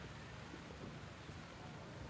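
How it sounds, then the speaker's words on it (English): Driving rain pours down at an outdoor rowing regatta on choppy water as a dense, steady, hissing wash of noise that stays even and fairly faint throughout, with no voices. "aggressive white caps to the finish line here, and driving rain."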